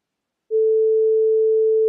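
Single-channel 440 Hz sine test tone at reduced level, a pure steady electronic pitch that switches on after a brief silence and holds evenly, alone with no talking.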